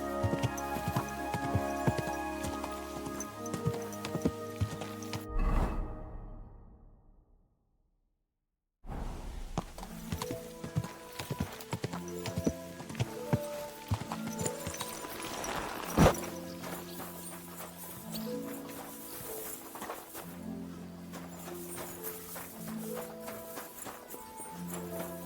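Horse hooves clip-clop at a steady walking rhythm in the medieval game Kingdom Come: Deliverance II, moderately close under a layer of music, with a brief silent gap partway through.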